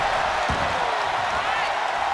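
Arena crowd noise from the wrestling video game WWE 2K23, a steady loud roar of cheering spectators that fills the whole stretch, with a commentator's voice faintly over it.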